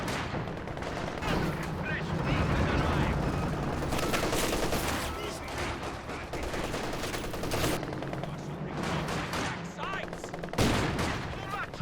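A Maxim machine gun fires in a Company of Heroes 2 battle, with rattling bursts and scattered gunshots amid other game combat noise, partly under a commentator's voice.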